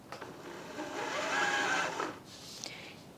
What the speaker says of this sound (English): When there is sufficient thread on the bobbin that it is not going to unwind, trim it off close to the bobbin and then carry on winding with your foot control.